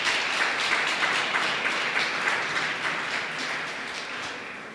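A church congregation claps and applauds during a Portuguese-language teaching service, a dense, steady patter of many hands that fades slightly toward the end.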